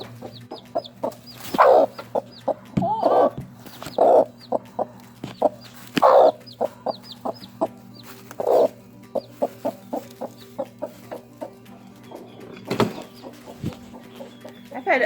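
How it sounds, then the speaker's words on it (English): A protective broody hen clucks repeatedly in short, close bursts, with sharper squawking notes now and then over a steady low hum in the background. "You don't want to mess with this chicken."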